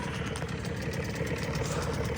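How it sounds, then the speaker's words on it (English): A Tohatsu two-stroke outboard motor on a boat runs with a steady, low, rough hum, moderately faint and continuous, with no talking. "Is it going to be like every other Tohatsu 2-stroke?"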